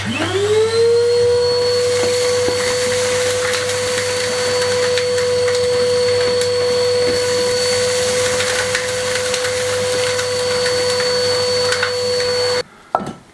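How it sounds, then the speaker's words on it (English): A Henry vacuum cleaner sucks debris out of a freshly dug hole in an old stone corral wall of a Spanish farmhouse, a loud steady whine with a strong tonal hum running close and unbroken before cutting off near the end. "I feel like I vacuumed most of the house away."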